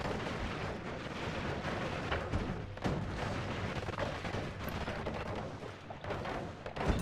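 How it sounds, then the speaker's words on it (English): Repeated mortar spell explosions in Noita rumble and crack in quick succession, a dense, noisy barrage with a few sharper bursts standing out and almost no speech. "I am a fan of mortar"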